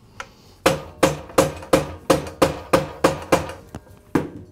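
A hammer taps a pivot pin through the castings of a DeWALT miter saw during a torsion spring repair, about nine evenly spaced, sharp, close metallic knocks with no talking.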